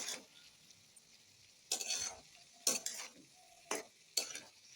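Spinach and winter vegetables with turmeric stirred in a frying pan: four or five bursts of spatula scraping and rustling over a quiet sizzle, close and fairly soft, no talking.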